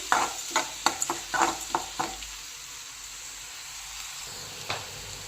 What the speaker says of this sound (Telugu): ఇందులో కొంచెం సాల్ట్ వేసుకొని ఆనియన్ గోల్డెన్ బ్రౌన్ కలర్ వచ్చేంత వరకు ఫ్రై చేసుకుందాం